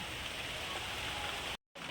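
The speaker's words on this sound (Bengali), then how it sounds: "বন্ধুরা দেখুন, বাইরে কি বৃষ্টি হচ্ছে" Rain falls outside as a soft, steady hiss that cuts out abruptly near the end before briefly resuming.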